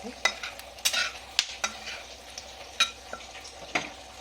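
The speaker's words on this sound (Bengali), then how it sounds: "ঘিয়ের একটা সুন্দর মিষ্টি গন্ধ আসছে, তার সঙ্গে এই মশলাগুলোর ভাজা গন্ধ" Whole spices fry in ghee for egg rezala, giving a close, steady sizzle broken by sharp clinks and scrapes of stirring against the pan at an uneven pace.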